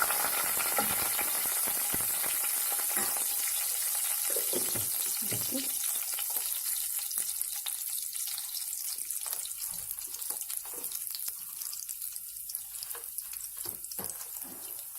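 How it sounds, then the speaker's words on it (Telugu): Tempering spices fry in hot oil for lemon rice, a dense continuous sizzle broken by stirring scrapes and spatters that thins slightly toward the end, with no talking. "ఇలా బాగా ఫ్రై చేసుకుంటూ ఉండాలి."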